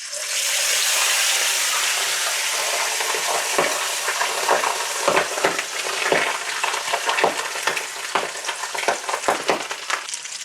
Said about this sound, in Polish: Tak to będzie strzelać w oleju, który już nagrzewam.